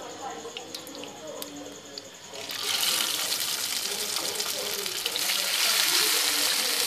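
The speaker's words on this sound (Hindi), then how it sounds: "अब हम इसको एक एक पीस उठा के फ्राई पैन में डालेंगे।" Chicken pieces drop into half a cup of hot oil in a frying pan, and a loud, steady sizzle rises partway through and holds to the end, with quiet kitchen noises before it.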